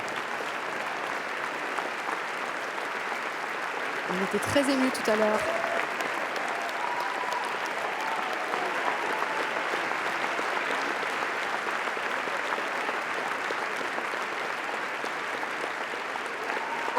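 Audience applause filling the hall on the red carpet at the Cannes Film Festival for the director and the crew, a steady, dense clapping that holds throughout, with a brief voice speaking over it near the start.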